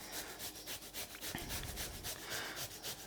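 Food is grated straight into a Greek yogurt container for tzatziki, a steady rhythmic rasping of quick, even strokes, close and fairly quiet, with no talking.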